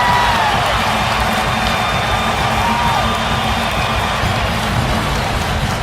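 A basketball arena crowd roars in a steady, loud wall of cheering and whooping after a three-pointer late in a Brooklyn Nets–Los Angeles Lakers NBA game, with no clear pauses.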